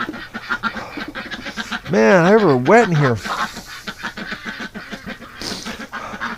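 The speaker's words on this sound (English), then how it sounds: "the ducks are hanging out in here because it's been raining non-stop here for the last day" Ducks sheltering from constant rain give a loud, close burst of wavering quacks lasting about a second, with someone talking before and after.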